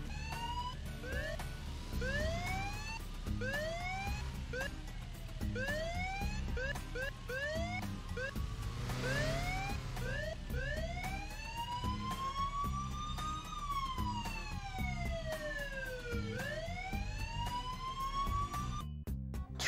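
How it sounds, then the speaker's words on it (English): Police siren in the Driving Simulator game, doubled from spamming the siren button with high ping: two overlapping wailing sweeps rising and falling out of step, loud and continuous over engine rumble for the whole stretch. "Spamming siren button while having a high ping can result a double"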